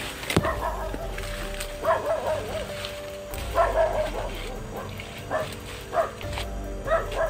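A dog barks and yips repeatedly in short bursts, fairly close, with a person murmuring in the background between barks.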